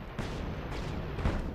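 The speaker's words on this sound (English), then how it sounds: "I am having this awesome big bomb in my hand, which apparently is fireworks." Fireworks bomb exploding in the Guild Wars 2 video game, a dense rolling boom with a sharper blast near the end, loud and continuous without talk.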